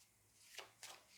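Tarot cards shuffled and drawn, three quick soft riffling swishes at close range, separated by short quiet gaps, with the last one loudest.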